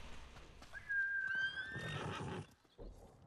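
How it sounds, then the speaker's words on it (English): A horse in the samurai game Ghost of Tsushima lets out one clear whinny with a rising, wavering pitch, followed by a short burst of low rumbling movement, over quiet ambient game noise. "That is not my horse."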